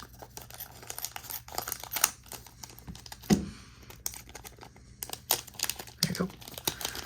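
A One Piece OP-03 card booster pack is snipped open and its foil wrapper crinkled and torn, giving sharp irregular crackles and rustles up close, with faint talk in between.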